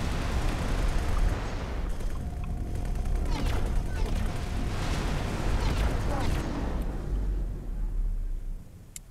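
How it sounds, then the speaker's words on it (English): Loud, dense rumbling blasts and booming impacts from a space battle in the game X4: Foundations, hitting a pier, with crackling bursts continuing throughout before cutting out near the end. "Explosion imminent."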